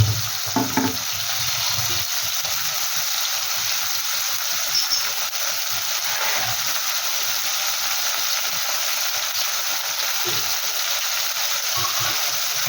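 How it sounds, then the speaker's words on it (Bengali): Morola fish fry in hot oil, giving a steady, moderately quiet sizzle with occasional soft clinks and stirring sounds throughout. "গরম হয়ে গেছে, এবার মোরলা মাছগুলো আমি ভেজে নেব।"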